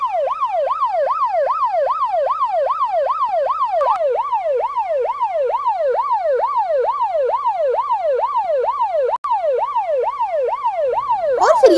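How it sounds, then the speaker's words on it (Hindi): An ambulance siren wails loud and close, its rising and falling tone sweeping steadily and without pause for the whole stretch, with a brief shift in sound at the very end. "अरे सिद्धार्थ जी देखिए एम्बुलेंस आ गई है"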